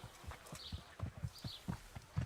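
Horse hooves clip-clopping in the medieval video game Kingdom Come Deliverance, a steady walking rhythm of distinct, moderately loud thuds with no talk over them.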